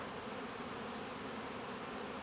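Honeybees in an apiary make a dense, steady buzz that fills the whole stretch, close and continuous with no voices.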